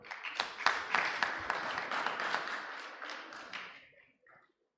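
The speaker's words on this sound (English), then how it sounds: "I think this deserves a hand clap." Audience at a doctors' conference clapping hands together, a dense burst of applause that builds quickly, holds steady for about three and a half seconds, then thins out to a few last claps and silence.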